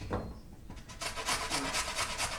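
Vegetables grated by hand on a grater, starting with a few scattered scrapes and then settling into a steady run of rhythmic rasping strokes, close and fairly quiet, with no voices.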